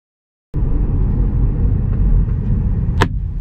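An acorn drops from a tree onto a moving car and strikes it with a single sharp knock, heard from inside the car over the steady rumble of road and cabin noise.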